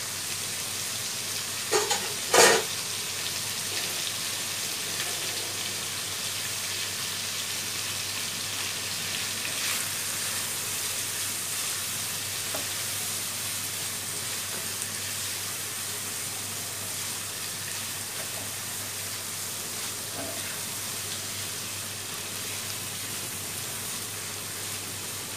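Shrimp for chicken fried rice sizzle steadily in a hot pan, a continuous hiss that stays even for about twenty-five seconds. A few sharp clinks of utensils sound near the start, with no talking.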